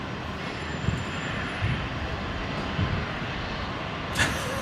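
A Qantas airliner taxis at Brisbane airport, a steady broad engine rumble and whine running throughout at moderate distance, with a brief louder swell near the end.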